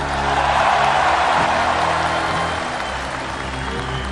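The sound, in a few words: crowd applause at a political rally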